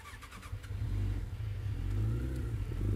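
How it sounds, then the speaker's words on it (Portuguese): Suzuki motorcycle engine revving up close after a fill-up, a loud rising mid-pitched roar with a brief blip at the start, then sustained throttle throughout, no voices. "A moto tá respondendo muito bem no acelerador."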